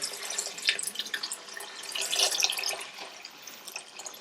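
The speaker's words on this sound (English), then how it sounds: "So this is a spiced pickling vinegar. So we'll pour that onto the sugar." Spiced pickling vinegar pours steadily from a bottle onto sugar in a pan while making green tomato chutney, a close, continuous splashing trickle with bright droplet spatters that swells in the middle.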